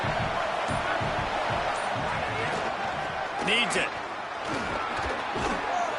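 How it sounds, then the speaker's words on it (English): A football stadium crowd at LSU versus Texas roars on a fourth down, a steady wash of noise under a commentator's talk. "this crowd trying to help this defense rise to the occasion"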